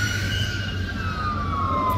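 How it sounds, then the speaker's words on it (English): An ambulance siren on a road, heard from a motorcycle ride, as a steady wailing tone that slowly drifts downward in pitch over continuous road and wind noise, moderately loud and with no talking. "here comes another ambulance"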